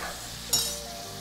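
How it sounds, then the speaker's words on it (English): Fish fillets fry in a hot pan on raised heat beside a thickening sauce, giving a steady close sizzle with one brief metallic clink partway through. "we got fish sizzling"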